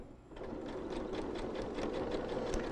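A sewing machine runs steadily, stitching a fabric seam over pins with a rapid, even rhythmic clatter, close and alone.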